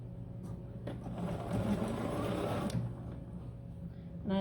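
A dual-feed sewing machine stitches a quarter-inch seam on a self-binding baby blanket, a steady close mechanical whir running alone with a slight speed-up in the middle.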